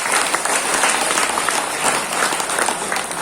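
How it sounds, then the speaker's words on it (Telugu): A team claps together at a meditation program, dense continuous applause from a group held at an even, loud level throughout. "మన టీం కూడా చప్పట్లు పెడదాం."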